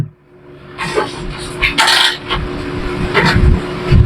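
A motorcycle engine that has sat stuck for a long time is kicked and revved, giving loud uneven bursts of engine noise with a steady idle hum underneath and brief gaps between attempts.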